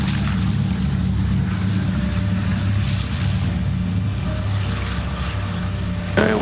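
Douglas DC-3 piston propeller engines roaring steadily at takeoff and climb power, a loud, close, continuous drone with a throbbing low hum heard from inside the aircraft and no speech.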